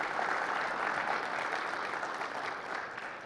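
A conference audience at an education technology session applauds, a soft, steady patter of many hands heard from a distance that tapers off slightly near the end.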